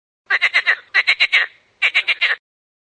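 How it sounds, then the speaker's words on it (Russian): A frog gives three quick bursts of rapid, rhythmic croaks, each a run of three to five pulses, close up and clear against silence. "лягушка"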